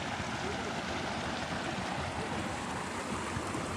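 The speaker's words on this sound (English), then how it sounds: "The water is going under where there used to be trees." Stream water flows beneath the spot where trees once stood, a steady, even rushing wash that continues unbroken throughout at moderate volume, with no voices.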